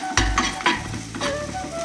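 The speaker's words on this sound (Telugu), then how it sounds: "చిన్నగా తురుముకున్న ఉల్లిపాయలు, పచ్చిమిర్చి, కరివేపాకు వేసుకోవాలి. వీటిని బాగా వేగనివ్వాలి." Chopped onions, green chillies and curry leaves frying in hot oil, a loud close sizzle broken by several rhythmic scraping stirs of a spoon against the pan.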